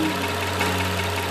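A Nissan VQ35 V6 engine idles close up with one ignition coil unplugged, humming steadily with a rough, uneven pulsing from the misfiring cylinder.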